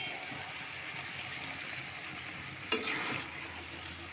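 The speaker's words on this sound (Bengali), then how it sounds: "একটু নাড়া দিয়ে" Vegetables and meat fry in a pan with a steady soft sizzle while being stirred, and a single sharp scrape or clack of the utensil stands out partway through, close and moderately quiet.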